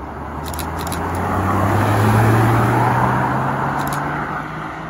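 A McLaren 12C supercar drives past at a hypercar meet near the Goodwood roundabout: a loud engine drone that swells as it approaches, peaks close by, then eases away, with a faint rising pitch and no talking.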